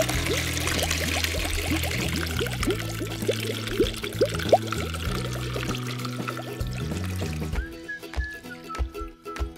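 Orbeez water beads poured into the water of a toy pool, a steady pouring patter under loud, busy music with tonal melody lines; the music drops out near the end.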